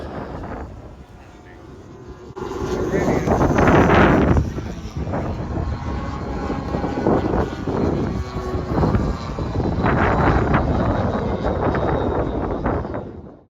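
Strong gusting wind roars across the microphone at a Large Model Association airshow at Sleap, with the drone of large model racer aircraft engines blended into a loud, continuous broadband rumble.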